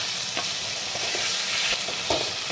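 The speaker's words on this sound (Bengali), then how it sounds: "মশলাটা আমার কষা হয়ে গেছে, সব থেকে তেলগুলো সব ছেড়ে দিয়েছে।" Spice paste sizzling in hot oil in a pan for a Bengali tangra fish curry, a steady close frying hiss with occasional stirring scrapes and soft pops, no voices.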